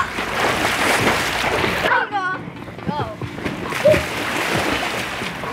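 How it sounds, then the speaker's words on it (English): Someone swimming in water during a spring-break outing, with choppy, irregular splashes and sloshing close by, under excited voices calling out nearby. "Go, Nadia. Go. Swim"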